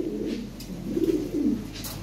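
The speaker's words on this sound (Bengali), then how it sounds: "অনেক সুন্দর সুন্দর কবুতর আছে" Lahori pigeons coo in soft, low, rolling phrases close by, two or three throaty calls swelling and fading in succession with no talk over them.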